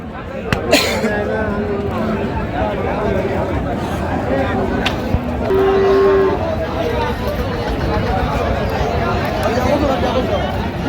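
At the Ambari cattle market in Dinajpur, a cow with her calf lets out one brief low moo partway through, half buried under steady crowd chatter and people talking nearby.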